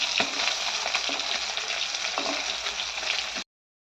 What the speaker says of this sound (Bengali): এখানে মাছটা অলরেডি আমি ভাজছি